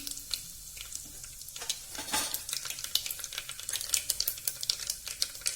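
Cumin seeds fry in hot oil in a pan with a lively, continuous crackle and sputter, punctuated by quick sharp pops, close and fairly loud.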